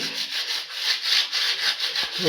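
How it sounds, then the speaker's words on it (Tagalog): Sandpaper rubs back and forth over hardened epoxy floor coating in a bathroom, a steady rhythm of raspy strokes, close and fairly quiet, no voices. "Lihain natin para mabutas."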